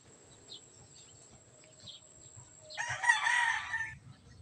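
Backyard rooster crowing once, a loud cock-a-doodle-doo near the end, with soft clucking from other chickens before it.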